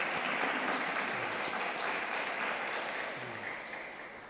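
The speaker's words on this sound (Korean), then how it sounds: "우리 글로리아 성가대원들에게 격려의 박수를 한번 보내드리겠습니다" A church congregation applauds its choir during a Sunday service, dense steady clapping filling the room throughout and tapering off slightly toward the end.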